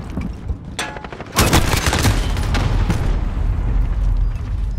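Gunfire in a first-person shooter video game match, steady rapid shooting with a sudden loud burst and booming impact partway through that continues densely to the end.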